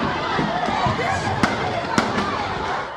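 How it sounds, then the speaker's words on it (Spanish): Sharp gunshots crack out amid a noisy, agitated crowd armed with sticks and stones, two distinct loud reports standing out over shouting and commotion. "Peor aún fue cuando se escucharon los disparos"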